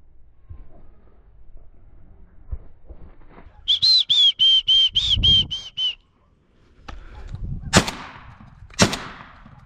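Two sharp, loud gunshots ring out about a second apart during a thrush hunt outdoors, following a run of brief whistled, bird-like notes.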